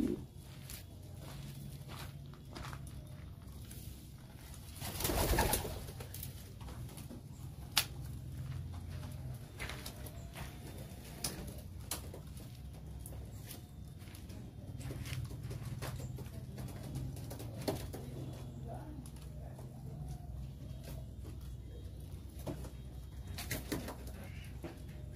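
Pigeons coo faintly in a loft setting, soft low murmuring calls repeating through a steady background hum, with a few scattered footsteps and a brief louder rustle or flap partway through.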